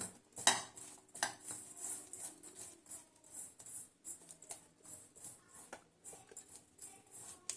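Cauliflower florets being mixed with flour in a bowl for gobi manchurian, giving repeated scraping and clinking of a utensil against the bowl in an irregular rhythm, fairly close and soft, with no talking.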